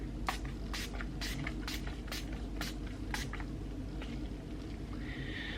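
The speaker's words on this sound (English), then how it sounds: "Just closing my eyes and my mouth and spraying." A series of short hissing spritzes from a makeup setting spray bottle, about nine quick pumps in an uneven rhythm over a low steady hum.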